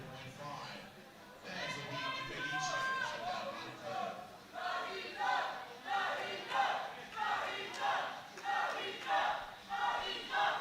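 Crowd at a world sub-junior and junior powerlifting championship shouting and chanting in pulsing rhythmic bursts that grow louder toward the end, with voices mixed in.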